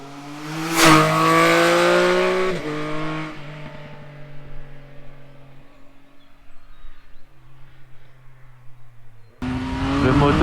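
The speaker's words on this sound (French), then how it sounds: "on entend ce fabuleux 3 cylindres chanter comme il faut" A Triumph Speed Triple 1050 RS three-cylinder motorcycle engine revs hard, its pitch climbing to a loud peak and then falling back through a long steady drone before another rise at the end.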